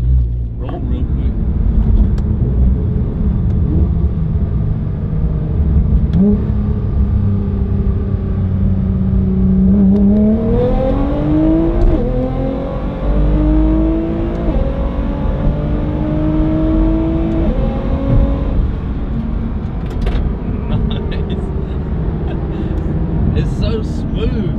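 A 900hp Nissan GT-R accelerating hard from inside the cabin, with the engine droning loudly and its pitch rising and dropping through gear shifts, while people talk over it throughout.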